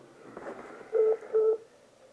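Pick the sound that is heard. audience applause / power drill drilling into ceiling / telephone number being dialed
telephone number being dialed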